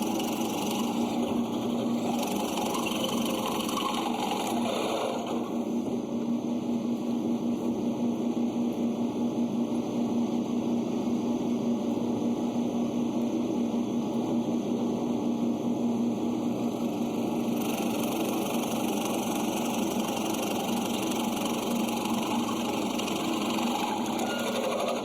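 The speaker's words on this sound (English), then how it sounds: "then we'll go to the drill press" A drill press in a wheelwright's shop building buggy wheels runs continuously with a steady, loud mechanical whine and hum, its pitch and texture shifting slightly partway through.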